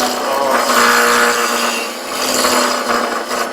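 Spindle gouge cutting wood on a spinning lathe, a continuous bright scraping hiss with slight swells as the tool moves along the workpiece, loud and close.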